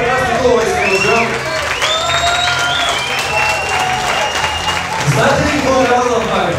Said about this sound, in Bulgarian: Аплодисменти за нашата прекрасна кума